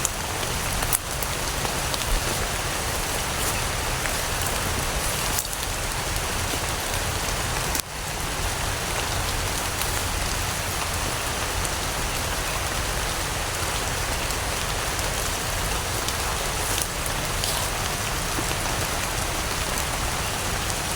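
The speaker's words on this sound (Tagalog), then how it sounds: "Ulan na mga boss." Heavy, steady rain pours down continuously, a dense hiss of drops striking surfaces nearby, with a couple of brief knocks.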